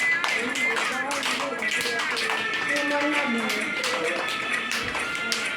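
Children clap along in a singing game, with light, irregular hand claps running under continuous sung and spoken voices throughout.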